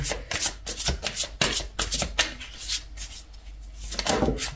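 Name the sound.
shuffling oracle cards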